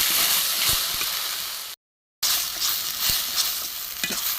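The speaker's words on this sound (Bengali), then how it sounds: "এবার আমি সুন্দর করে মশলা দিয়ে এটাকে ভেজে নেব।" Steady, close sizzling of Bombay duck (loitta) fish frying in a pan with spices, ginger, garlic and onion, with occasional stirring scrapes, briefly cut to silence in the middle.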